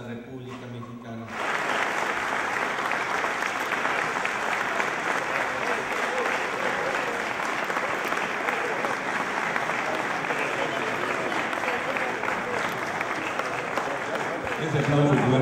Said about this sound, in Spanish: Este aplauso fuerte de los sonorenses y de los visitantes